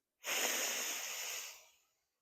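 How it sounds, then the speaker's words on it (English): One slow, steady inhale through a single nostril during alternate-nostril yoga breathing, close and breathy, rising quickly and fading out after about a second and a half, with no other sound. "close your right nostril with your thumb. Keep the left nostril open. Inhale for 4 counts."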